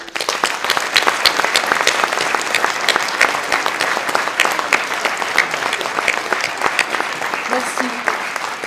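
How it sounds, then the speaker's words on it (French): Sustained applause from a crowd at a New Year's greetings ceremony held by the municipality of Séné, honoring the municipal services; dense, steady clapping fills the whole stretch at strong level. "je voudrais vraiment qu'on ait ce temps d'applaudissement pour les services municipaux"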